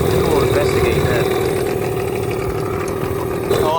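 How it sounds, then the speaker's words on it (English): A Yamaha outboard boat engine, a cheap illegal unit, idles steadily and loudly up close after a pull start, with a continuous rumbling drone that holds even throughout. "3 pulls and it started, and it's idling, and it's pumping water"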